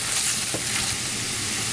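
Beef for stroganoff, seasoned with salt and pepper, sizzles loudly in a hot pan as it is stirred, a dense steady frying hiss close by with a faint scrape, no talking.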